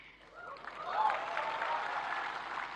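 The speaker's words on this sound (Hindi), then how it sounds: "मैं देख रहा हूं पहली बार पुरुष ताली बजा रहे हैं" Applause from an audience at an award ceremony in Bharat Mandapam, men clapping, heard as a steady wash of many hands clapping, moderately distant and sustained throughout.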